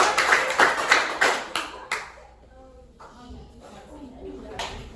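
A teacher claps her hands in a classroom, a quick series of sharp, close claps for about two seconds, then quiet room noise with faint voices and one more clap near the end.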